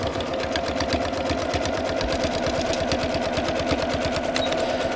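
A sewing machine stitches straight lines along a fabric ring sling, its steady fast mechanical chatter running continuously and close throughout.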